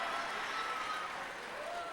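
Sustained audience applause at a Father's Day church service, steady and dense across the whole stretch, fairly distant and even in level.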